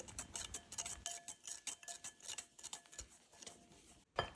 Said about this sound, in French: Verse 2 jaunes d'œufs avec 30 g de sucre vanillé et fouette jusqu'à ce que le mélange blanchisse légèrement.